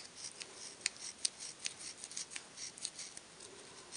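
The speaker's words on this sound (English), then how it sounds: "take little tiny snips out of this" Scissors making many tiny snips into a paper feather for a handmade card, quick soft crisp cuts in an irregular rapid series, close and quiet with no voices.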